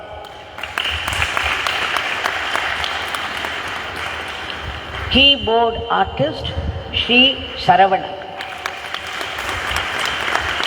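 Continuous crowd applause at a Guru Purnima gathering in an ashram, a steady hiss of many clapping hands running throughout, with a man announcing over it midway.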